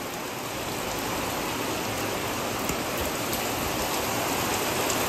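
Heavy monsoon rain pouring off a house's roof eaves, a dense steady wash of falling water and splashing, loud and close, continuous without pause and with no voices.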